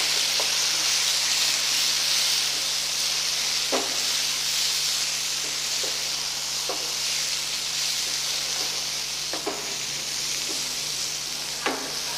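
Tomato masala for a prawn green chilli fry sizzles steadily in a hot pan, a continuous bright hiss broken by a few soft clicks and scrapes of stirring. No one speaks.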